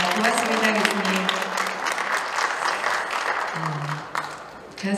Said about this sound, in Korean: 오늘 정말 열성을 다해서 강의해 주신 우리 진중권 교수님께 다시 한번 감사의 박수를 보내겠습니다.